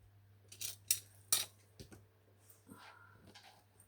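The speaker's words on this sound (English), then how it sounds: "That's Boo having a scratch and a lick, you can hear." Quiet, intermittent scratching and wet licking sounds from a dog nearby, a few soft bursts spaced out over a low steady hum.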